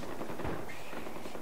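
Dense, continuous automatic gunfire in the Far Cry 4 video game during a rhinoceros hunt, loud rapid bursts filling the whole moment with no speech over it.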